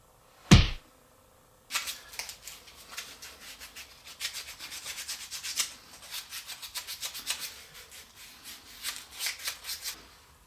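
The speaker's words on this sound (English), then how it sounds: "give it a good sanding all the way around, take off any sharp edges" Sandpaper rubs around the edges of a cut-out piece for a paper cup holder, a sharp knock first, then a steady run of quick, rhythmic scraping strokes, close and fairly quiet, with no talking.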